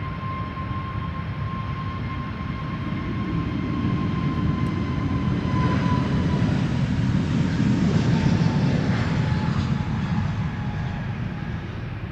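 Aer Lingus Airbus A321neo jet departing Amsterdam Schiphol Airport for Dublin, a steady broadband engine roar with a faint high whine that swells slightly midway, heard from a distance with no talk.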